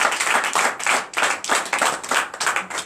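A congregation claps in a church service, a close, uneven burst of hand claps with rhythmic pulses running through the short stretch.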